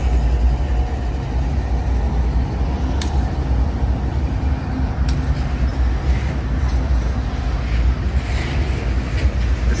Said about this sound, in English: It's a manifest train.